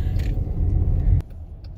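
A car on the road to the Georgia Aquarium rumbles with a steady low engine and road drone from inside the cabin, which drops abruptly to a quieter hum partway through.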